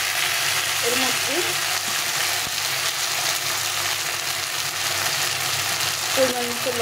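A ground paste of ginger, cumin, green chili and coriander fries in oil with fried taro, making a loud, continuous sizzle with faint stirring noises and short snatches of a voice near the start and end.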